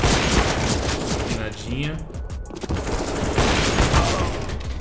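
Gunfire in a Counter-Strike style shooter game, dense rapid shots and bursts throughout, with a voice speaking briefly over them.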